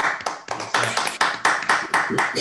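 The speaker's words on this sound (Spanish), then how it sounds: "pues aplaudimos a María por, esta magnífica charla." Audience applause after an academic mathematics talk, a small group clapping close by, loud and somewhat uneven with distinct individual hand strikes in a rhythmic pattern.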